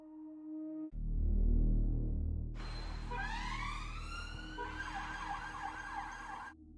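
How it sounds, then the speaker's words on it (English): An ambulance siren wails from about 2.5 seconds, rising and sweeping in pitch before cutting off near the end, loud and fairly close over a low engine rumble with no talk. "He's put into an ambulance and rushed under blue lights to hospital."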